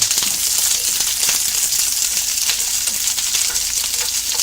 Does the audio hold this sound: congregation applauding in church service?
no